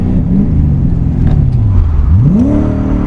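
A V8 1UZ-swapped Nissan S14 200SX pulls hard in second gear, its engine note rising loud and close, dipping briefly at a shift-like drop, then climbing again in a strong sustained drone.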